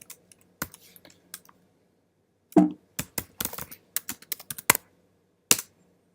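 Someone types Python code on a computer keyboard in short bursts of crisp key clicks separated by pauses. The taps sound close and sharp.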